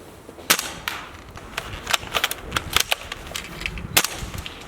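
Spring-powered L96 airsoft sniper rifle firing several sharp, snappy shots at irregular intervals, each a crisp crack close by with a faint mechanical click, no talking.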